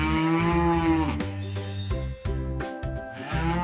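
A cow moos in long, loud, close lowing calls, one drawn-out moo and then further bellows in quick succession, with no voices over them.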